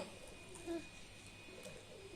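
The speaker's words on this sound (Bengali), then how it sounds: "বক বকম বক বকম করছে পায়রা" Faint, soft pigeon cooing against a quiet background, a low murmur repeating a few times.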